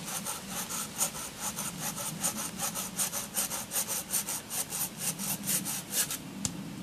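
A Laplander folding saw cuts through a slightly unstable log to make a tent peg, giving steady, close rasping strokes in a regular back-and-forth rhythm with no talking.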